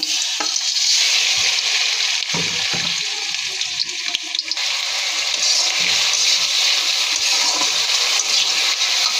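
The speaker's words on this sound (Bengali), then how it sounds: "পেঁয়াজ ভাজা হয়ে গিয়েছে" Loud, steady sizzling of onion paste frying in hot oil with whole garam masala, with occasional stirring clatters and no voices.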